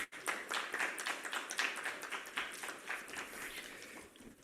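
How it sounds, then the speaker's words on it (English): Audience applause at a rare diseases summit welcomes a managing director coming up for an inaugural address: dense, steady clapping from a full room, holding level for several seconds and thinning slightly near the end. "Please give him a huge round of applause."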